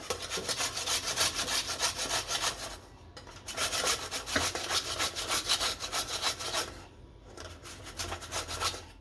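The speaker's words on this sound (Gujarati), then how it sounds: "આ રીતે મોટા ખમણવાના બધા ખમણી લેશો" Raw potatoes being grated on a large grater, rhythmic rasping scrapes in quick back-and-forth strokes, loud and close, broken by two short pauses, with no talking.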